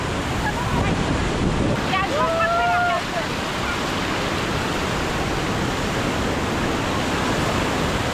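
Sea waves at Puri beach form a loud, continuous roar of surf and wind buffeting the microphone, with a brief voice or whistle-like tone rising above it near the start.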